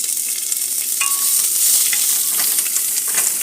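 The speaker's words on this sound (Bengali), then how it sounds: "দিয়ে একটু পেঁয়াজটা একটু ভাজা ভাজা করব" Half-raw chopped onion fries in a pan for a duck curry with coconut milk, a steady broadband sizzle with soft scraping stirs, loud and close, no talking.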